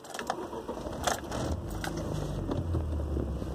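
A Fiat Tempra Turbo being started, a brief cranking burst settling into a low, steady idle rumble close by, with faint mechanical clicks and no voices.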